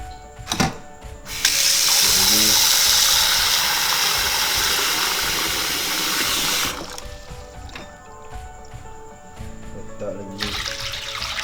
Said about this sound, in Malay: Kita ambil air